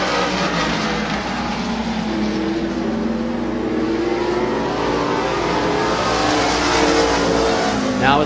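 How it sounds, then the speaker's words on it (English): Stock cars racing on an oval speedway, engines roaring continuously as a pack circles, with a car passing close near the end; the 31 car has an engine miss. "It sounds like the 31 car may not be missing as badly as it was in the early circuits."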